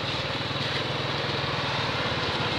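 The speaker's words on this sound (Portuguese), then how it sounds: "E agora tem uma moto atrás de mim." A motorcycle idles and rumbles steadily just behind a car at night on the BR 101 in Itamaraju, Bahia, its low engine pulse continuous and fairly close amid road noise.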